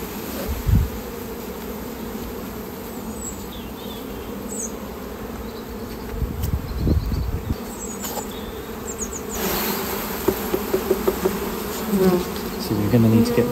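Many honeybees buzz around an open hive in a dense, continuous hum close by, with occasional louder passes and light knocks and scrapes underneath.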